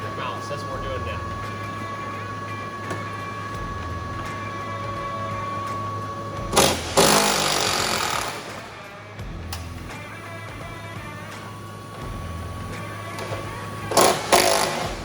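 Power tools rattle and whir during work on a truck's factory fifth wheel mounts, with bursts of loud broadband noise from tools on the bolts, under ongoing talk.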